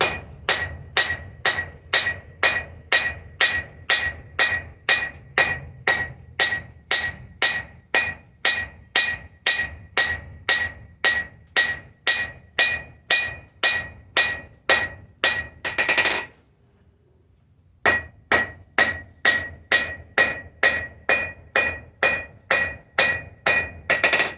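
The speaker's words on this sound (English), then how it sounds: "First I'm just going to still be using the regular hammer." Steady metallic hammer blows ring out at an even rhythm as rebar is flattened, dozens of strikes, with a brief pause partway before the pounding resumes.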